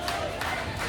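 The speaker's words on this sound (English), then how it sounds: "we are having some clapping" Crowd at Epcot's Club Cool closing gives scattered, modest clapping with a few faint cheers, moderately distant and fairly quiet, continuous through the moment.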